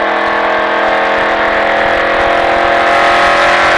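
A NASCAR race car accelerating on a track in Las Vegas, a loud, sustained engine roar building steadily under throttle, close and continuous for the whole stretch.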